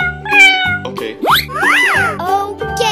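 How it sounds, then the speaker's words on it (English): A cat meows in a playful animal-sound sequence, with rising and falling tonal calls over a repeating musical backing; the meow stands out clearly and close. "Cat."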